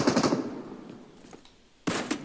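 Automatic gunfire in the mobile shooter game PUBG Mobile: a loud rattling burst at the start fades out, then a second sharp burst cuts in near the end, with no talk over it.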